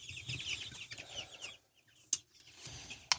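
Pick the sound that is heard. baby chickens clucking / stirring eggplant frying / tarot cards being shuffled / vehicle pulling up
baby chickens clucking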